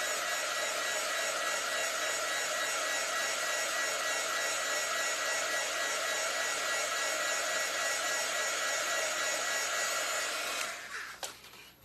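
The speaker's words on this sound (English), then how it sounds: "I'm going to take my heat gun, hair dryer's work, and I'm going to dry this." A heat gun drying chalk paste on Dollar Tree Easter decor runs with a steady, loud hissing whoosh of blown air, holding constant for about ten seconds before cutting off with a few clicks.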